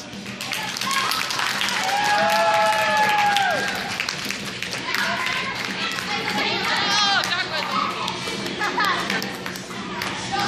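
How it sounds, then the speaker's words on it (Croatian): A school play audience bursts into sustained applause at a school-day celebration, dense clapping mixed with crowd chatter and excited voices, loud and steady before gradually easing. "Aplauz!"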